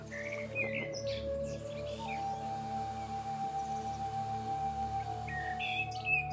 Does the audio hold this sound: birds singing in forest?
yes